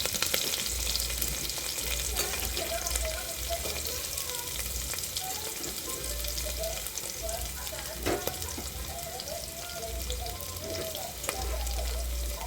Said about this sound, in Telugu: ఇప్పుడైతే పచ్చిమిర్చి అండ్ ఉల్లిపాయ రెండు కూడా యాడ్ చేసుకుంటున్నాను దీంట్లో